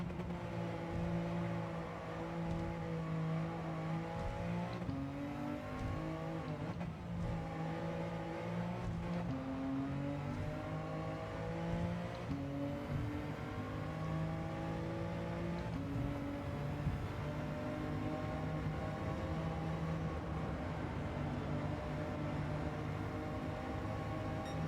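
A race car engine is heard from on board during a lap. It drones loud and continuously, its pitch climbing through each gear and then dropping sharply at several upshifts.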